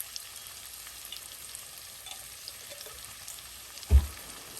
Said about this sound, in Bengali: দিয়ে আমি ভালোভাবে একটু কষিয়ে নিই